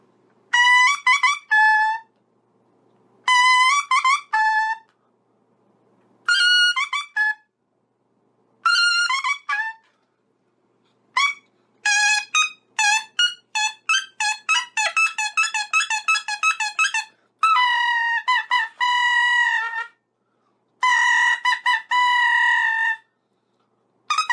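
Bird calls played on a double wind instrument at an arts carnival, bright trilling and chirping phrases in short bursts separated by silences, then a long run of rapid warbles, loud and close with no talk.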